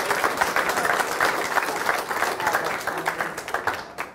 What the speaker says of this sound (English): I think we should all clap for my dad